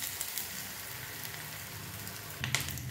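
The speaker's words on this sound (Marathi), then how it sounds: "आता मी हे शॅलो फ्राय करून घेणार आहे।" A fasting-day (vrat) snack shallow frying in hot oil in a pan, giving a steady, soft sizzle throughout with a brief louder crackle near the end.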